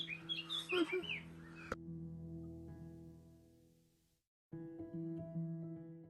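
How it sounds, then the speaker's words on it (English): Bright, chirpy bird calls flutter through the first couple of seconds, then a steady low hum fills the rest, fading out and returning after a brief gap. "Can you hear all the birds as well?"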